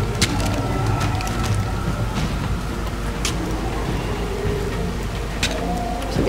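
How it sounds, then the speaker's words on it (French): Rain pours steadily with scattered sharp cracks and rumbles of thunder in an ARK Survival Evolved game storm. The downpour forms a continuous hiss throughout, with no voices. "des bruits d'orage quand il pleuvait, quand il y avait vraiment de l'orage"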